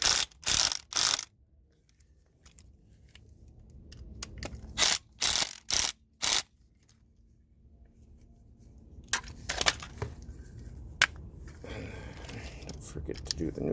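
Terminal screws on a 50 amp RV shore cord plug are cranked down with a ratcheting tool in several quick clicking bursts, loud and close, separated by quieter pauses with light handling noise.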